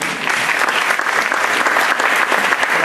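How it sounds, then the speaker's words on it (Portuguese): Loud, dense applause from an audience at an Ignite talk event, a continuous wash of clapping for a few seconds welcoming the next speaker. "Palmas para o Nuno."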